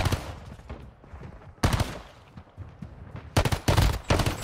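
Kimbo dual pistols firing in Warzone Mobile, several rapid bursts of sharp close gunshots separated by quieter gaps, loud and punchy with no talk over them.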